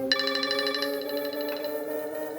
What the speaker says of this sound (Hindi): ये इस वक्त फोन क्यों कर रहा है?